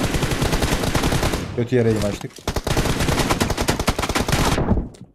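Rapid automatic gunfire in a shooter video game, loud dense bursts of shots nearly continuous across the clip, with a brief break where someone shouts over it.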